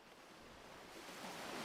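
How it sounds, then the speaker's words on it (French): Ocean waves wash onto a beach in a steady, faint rush of surf that swells slightly toward the end, with no voices. "le rythme des vagues"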